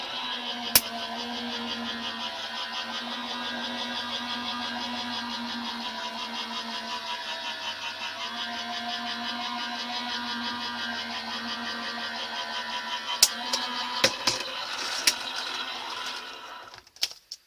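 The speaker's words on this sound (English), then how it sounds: "So let's turn the machine on. Feed that through." A die-cutting machine runs steadily for about fifteen seconds as a card top plate for a square pillow box favour feeds through, a continuous mechanical hum with a few sharp clicks and knocks near the end.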